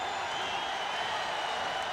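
A packed basketball arena crowd at the 1991 NBA Finals, Lakers against Bulls, gives off a steady, dense roar of voices and cheering that holds at an even level throughout, with no single shout standing out.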